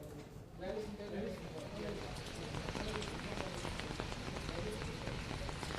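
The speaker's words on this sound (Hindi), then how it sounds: "आधे घंटे से झमाझम बारिश हो रही है" Heavy downpour over the city of Jaipur, a dense continuous hiss and patter of rain on surfaces, steady and loud throughout, with no voices.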